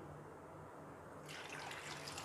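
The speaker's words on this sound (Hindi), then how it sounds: "इसे वॉश करने के लिए डालेंगे एक बाउल के अंदर। इसके साथ इसमें डालेंगे पानी" Water pours into a bowl holding taro root to wash it, a soft steady splash that starts faint and swells into a brighter, fuller gush.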